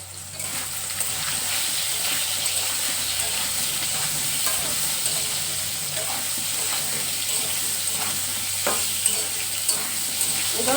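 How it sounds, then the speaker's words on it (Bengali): Soybean chunks and potatoes fry in a pan with steady, close sizzling and occasional stirring scrapes, continuous throughout with no talking. "একদম লাল লাল করে সয়াবিনগুলো ভেজে তারপর ফিরে আসছি"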